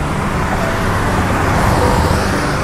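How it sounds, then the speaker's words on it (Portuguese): Steady roar of road traffic with cars passing close to a cyclist riding through city neighbourhoods, a loud continuous wash of engine and tyre noise with no gaps. "os carros passam aqui colados"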